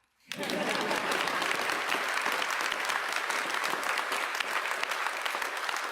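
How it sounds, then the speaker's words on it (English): After a brief silence, applause swells fast at a New York City mayoral press event, and a room of many hands keeps clapping steadily to the end. "You can clap."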